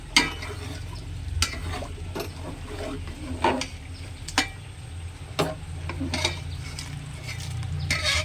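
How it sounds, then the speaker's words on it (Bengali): Ingredients for cauliflower khichuri are stirred together in a pot with spices, giving a low steady sizzle broken by regular scraping and knocking strokes of a spoon against the pot. "এবারে সবগুলো উপকরণ একসাথে মিশিয়ে নিতে হবে"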